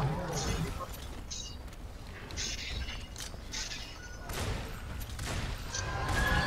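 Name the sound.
heavy bowgun shots in Monster Hunter World video game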